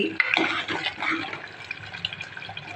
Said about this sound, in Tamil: கொஞ்சமாக அரைச்சி வச்சு ஊற்றிட்டேன் பாருங்கள் வேர்க்கடலை ஊற்றி